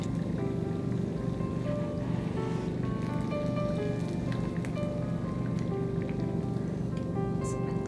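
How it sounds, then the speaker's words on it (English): Sabudana vadas deep fry in hot oil, giving a dense, steady sizzle and bubbling crackle close by that continues unbroken throughout, with no one speaking. "now in the same way I'm going to fry the remaining vadas"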